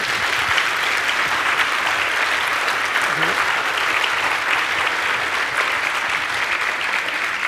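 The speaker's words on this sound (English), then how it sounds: "Big round of applause." Steady, dense applause from an audience, even and sustained throughout without pause.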